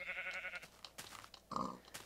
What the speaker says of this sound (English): But I also happen to see some sheep over here